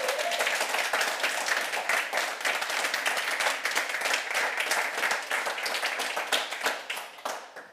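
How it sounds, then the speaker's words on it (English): A seminar audience applauds students, a moderate-sized group clapping steadily and evenly for several seconds before the claps thin out and trail off at the end. "I want to ask you for a big applause for our students who made it really good."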